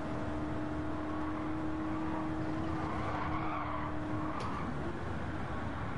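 Race car braking hard in Gran Turismo 7, tires squealing and skidding in a long sustained screech over engine drone, fairly quiet overall, the squeal cutting off near the end.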